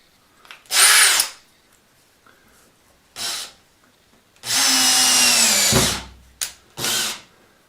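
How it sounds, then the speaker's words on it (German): A power drill drives screws into a wooden miter jig in several short, loud whirring bursts, the longest lasting about a second and a half, separated by quiet pauses. "So, jetzt werden die Dinger hier angeschraubt."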